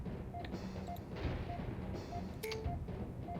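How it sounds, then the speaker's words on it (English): Enemy missile fire in the MechCommander game, a dense run of low rumbling blasts and impacts mixed with short tonal beeps, steady and fairly loud with no talking. "he's plucking some missiles at us"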